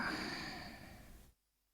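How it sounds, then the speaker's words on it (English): Soft breathy snoring from a girl character in the video game ISLAND, a steady close exhale-like rasp lasting over a second before cutting to silence. "It's the girl snoring."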